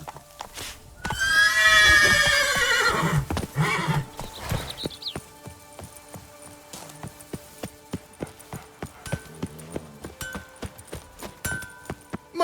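Roach, Geralt's horse in The Witcher 3 video game, lets out a loud whinny and then gallops off, with rapid rhythmic hoofbeats that continue steadily to the end.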